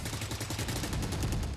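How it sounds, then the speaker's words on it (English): Rapid, dense gunfire from a Valorant esports match, a steady run of close, loud shots blending into continuous automatic bursts with no speech. "that's a lot of gunshots from Fnatic"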